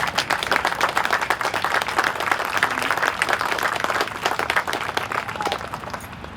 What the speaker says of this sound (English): I would ask us to give a round of applause for our thanks to those heroes that are here with us this morning